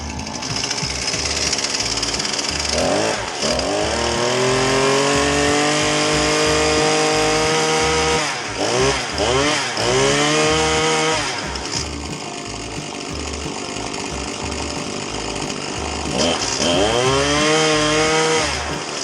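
A Husqvarna pole saw's small two-stroke engine runs loud and close, revving up and down in repeated surges with a rattling, buzzy idle between.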